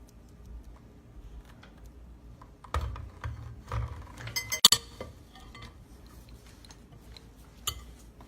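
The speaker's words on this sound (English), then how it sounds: "Let me start by creaming my sugar, my 1 cup of sugar into my butter" Sugar being creamed into butter in a bowl for a Trinidad fruit sponge cake: soft scraping and mixing with a few clinks of utensil against the bowl, close and intermittent.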